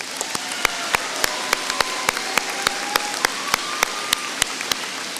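A graduation audience applauds the graduates, giving a steady wash of clapping close by with regular sharp, loud claps punctuating it throughout, and no voices over it.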